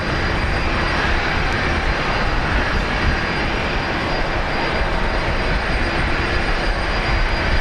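Qantas jet airliner taxiing at Brisbane Airport, a loud steady engine roar and whine holding constant throughout with no talk.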